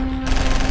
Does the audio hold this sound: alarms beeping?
no